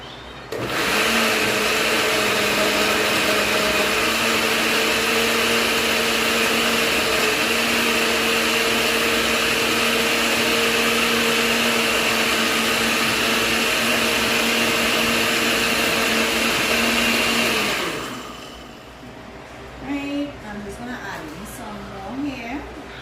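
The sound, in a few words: blender blending green seasoning ingredients with water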